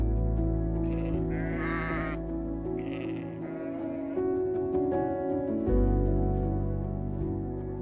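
Sheep on the Faroe Islands bleat loudly and close by, with several wavering calls in a row and no talk over them.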